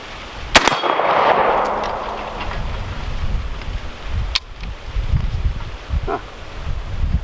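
A VR 80 shotgun fires a Russian slug while an EOTech optic is being sighted in: a single sharp blast near the start, then outdoor wind and rustling with a few faint clanks and handling noises.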